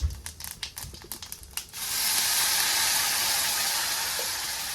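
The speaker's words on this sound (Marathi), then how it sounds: "तर आता मी चटणी त्यात ओतून घेते" A few crackling pops of cumin give way to a sudden loud, steady sizzle as thick chutney hits hot oil, hissing on continuously.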